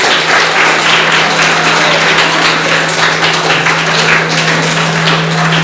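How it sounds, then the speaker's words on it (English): A school hall audience gives a loud, sustained round of applause for students from non-DAV schools at a camp in Chennai, dense clapping over a steady low hum. "A big round of applause to all of you."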